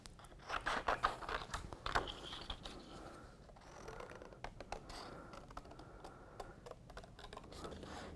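Scissors cut slowly through a die-cut card circle in a cardmaking session, giving a run of small crisp snips and crunches, close and quiet, with no talking.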